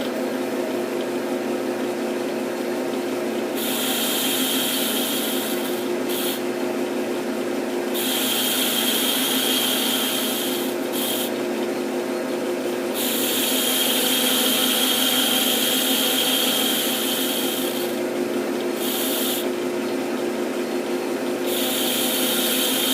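A lathe cuts a bevel on a scrap steel clutch hub: a steady machine hum runs throughout, overlaid by repeated high whining cutting passes of a few seconds each, broken by short pauses.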